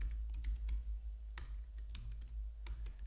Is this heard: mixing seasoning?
no